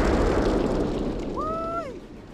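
A frag grenade blows up in the Xbox war game Full Spectrum Warrior, a loud, rumbling blast that fills the opening and slowly decays, with a brief voice cry near the end.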